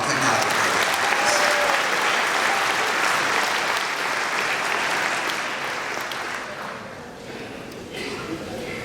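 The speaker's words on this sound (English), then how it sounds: "We have another round of applause for the Auto Technology." A crowd at a senior awards ceremony applauds for an auto technology program, producing dense, steady clapping throughout that eases slightly toward the end.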